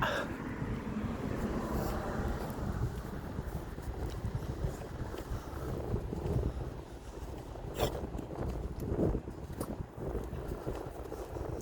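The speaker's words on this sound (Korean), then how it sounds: "바람 조금씩 불군요 해가 질려 가니까" Outdoor wind blows at dusk during an evening walk. It is a faint, steady rumble of gusts buffeting the microphone, with a few soft scattered clicks and no talking.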